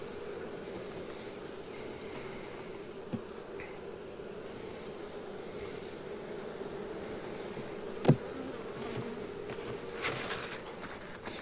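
Honeybees hum steadily at an open hive as the colony nears swarming season. The faint, even buzz continues throughout, with a couple of sharp knocks and one louder clack near the end.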